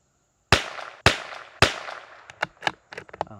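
A CZ 457 MTR rimfire rifle fires three sharp, loud, close shots about half a second apart at a target, followed by a few fainter, quicker pops.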